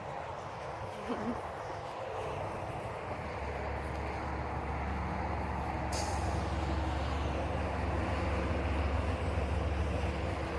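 A vehicle on a nearby road rumbles past outdoors in Canada, a low engine drone that swells and stays steady over faint background noise, with no talking.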